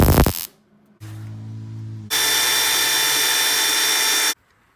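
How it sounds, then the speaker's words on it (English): A power drill whirs briefly, pauses, then spins up again and runs loud and steady for a couple of seconds before stopping, drilling holes in a semi truck frame. "we're going to drill and tap the holes for the flatbed"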